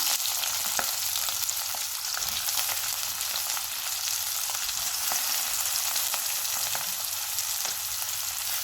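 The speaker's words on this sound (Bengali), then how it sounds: "গরম তেলে আমি দেবো পেঁয়াজ স্লাইস, পেঁয়াজ কুচানো, আর তাতে ক্যাপসিকাম" Sliced and chopped onion with capsicum fry in hot oil, a constant crackling sizzle dotted with small pops and light stirring, close by and with no voices.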